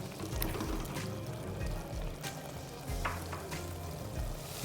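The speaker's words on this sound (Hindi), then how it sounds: "मैं पहले इसे ऑयल में अच्छी तरह भून लूँगी।" Minced meat (keema) frying in about half a cup of oil for qeema kachnar, a continuous close sizzle with stirring scrapes and clatter throughout.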